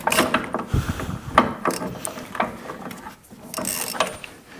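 A hand ratchet clicks in quick, uneven bursts while tightening steering rack bolts on a Jeep Liberty, close and dry metallic pawl ticks with short pauses between strokes.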